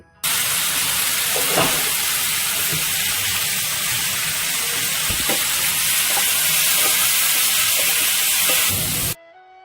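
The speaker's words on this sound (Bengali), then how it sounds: "সেদ্ধ করে রাখা আমলাগুলো পরিমাণ মতো নুন আর হলুদ দিয়ে এক থেকে দেড় মিনিট ভেজে নিচ্ছি" Boiled amla (Indian gooseberry) fries in a pan with salt and turmeric, giving a loud, continuous sizzle with a few faint knocks from stirring and no voices.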